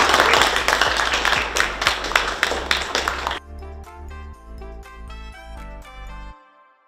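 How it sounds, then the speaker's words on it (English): A school audience claps for about three seconds of dense, loud applause, which then breaks off abruptly. Bright chiming music follows, with a low steady hum beneath both. "give yourself a big round of applause."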